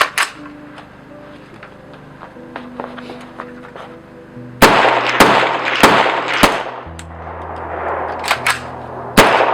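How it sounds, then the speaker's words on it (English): Supersonic rifle rounds fired outdoors at night through a muzzle brake, delivering several sharp, loud cracks at irregular intervals, with a low hum and faint background noise between them. "First 3 rounds coming out of it will be supersonic"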